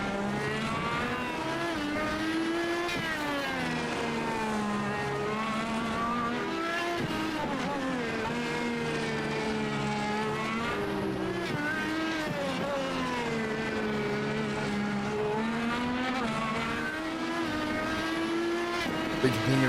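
Road to Indy race cars lap the Belle Isle street circuit, their high, whining engines rising and falling as they pass, layered and continuous, with a commentator talking over them.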